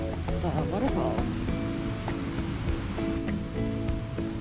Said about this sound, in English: I wonder how much water's coming out of there at a time. There's more trails that follow along the waterfalls.